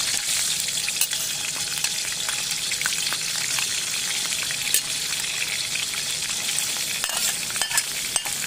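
Pieces of fermented sour fish fry in hot oil in a pan over a medium flame, a dense continuous sizzle peppered with sharp spattering pops, close and fairly loud, with no voices.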